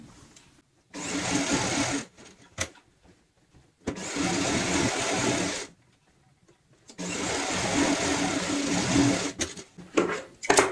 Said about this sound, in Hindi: यहाँ से शुरुआत करेंगे सिलाई की